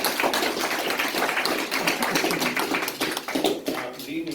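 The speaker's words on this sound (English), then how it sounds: "we're going to have an initial round of applause for him" An audience at a photography exhibition opening in a town hall theatre applauds the photographer, a dense, even patter of many hands clapping that tapers slightly near the end.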